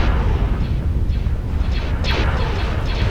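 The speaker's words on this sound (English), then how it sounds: "I shouldn't be bombing a planet." Booming explosions as a planet is bombed in a video game, a dense continuous roar of blasts with a few sharper bursts standing out, loud and close throughout.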